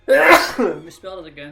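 A single sharp sneeze bursts out close to the microphone, followed by a man's brief muttered speech.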